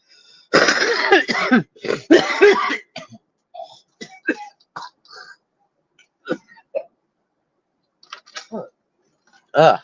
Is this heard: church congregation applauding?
no